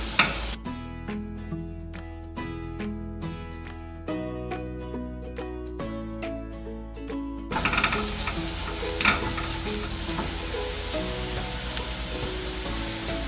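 Onion masala with cumin powder sizzles and is stirred in a hot pan for malai kofta, with sharp rhythmic stirring clatters at first, then a continuous loud frying hiss.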